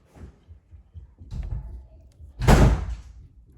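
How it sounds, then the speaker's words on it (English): An office door that tends to jam is pushed shut, a few soft bumps building to one loud slam near the end, close to the microphone. "Please close the door properly"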